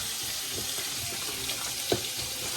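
Vegetables for pinakbet (okra, eggplant, chili and string beans) sautéing in a pan, giving a steady, fairly loud hiss of frying with faint stirring knocks throughout.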